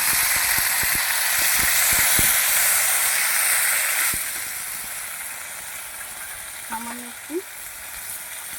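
Loud, steady sizzle and hiss of a ground paste of ginger, cumin, chili and coriander frying in a hot pan, with light stirring taps early on and brief speech partway through.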